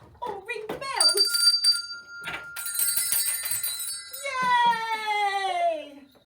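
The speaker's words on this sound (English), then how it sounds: "Or ring the bells." Small hand bells ring with bright sustained tones at a festive Christmas fun day, jangling amid cheering children and adult voices, then a long sliding whistle-like tone trails off at the end.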